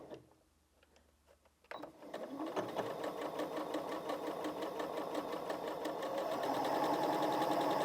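Close and steady, a Janome MC 6700p sewing machine sews a zigzag stitch, its rapid rhythmic chatter building after a quiet start and running on continuously.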